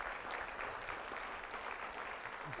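Quiet, distant applause from a university convocation audience rolls on as a steady wash of many hands clapping, heard alone and without voices.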